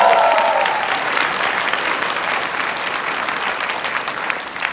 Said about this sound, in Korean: 우리 모두를 위해서 박수 한번 치고 시작할까요?